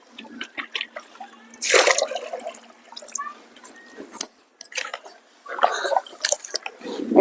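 Finger millet grains being washed and rubbed by hand in water: irregular close sloshing, splashing and trickling with wet squelches and occasional louder pours.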